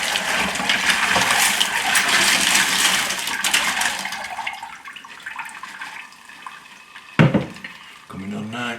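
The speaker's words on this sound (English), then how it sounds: "Give it a quick rinse." Water gushes and splashes steadily over tumbled tiger's eye stones during a rinse, loud at first and then thinning to a lighter trickle, with a brief sharp clatter near the end.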